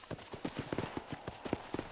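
Horse hooves clip-clop steadily on the ground in the Western video game Red Dead Redemption, an even trotting rhythm of close, crisp hoof strikes over a faint background.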